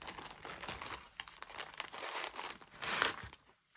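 Crinkling and rustling of plastic or paper while cross-stitch projects on 18 count Aida are handled, a close, busy run of crackles and crumples with no talk.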